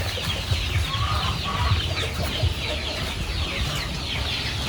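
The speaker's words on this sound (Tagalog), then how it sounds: "Black Australorp po talaga yan, napakaganda po. Ito black talaga." Black Australorp chickens cluck in a simple coop with a metal-sheet roof, a busy, continuous chatter of several birds close by with no talk.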